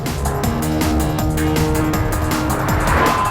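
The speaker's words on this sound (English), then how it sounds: "just loves to be revved, and it's just great the way you can pull it all the way to the red line" A Mercedes-Benz ML 63 AMG or Porsche Cayenne Turbo performance SUV engine revs loudly and steadily toward the red line, a continuous rising roar with no talk over it.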